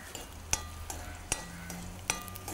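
Raisins frying in hot ghee on a stove, a soft steady sizzle broken by three sharp spoon clinks against the pan, with no talking.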